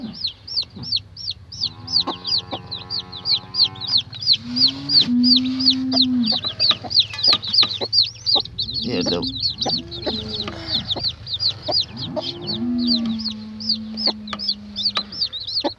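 A hen clucks low and repeatedly close by while newly hatched chicks keep up constant high, rapid peeping all around.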